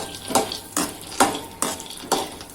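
Peanuts roasting in ghee in a pan, stirred with a utensil that scrapes and clinks against the metal in five distinct strokes about half a second apart, with a faint sizzle underneath.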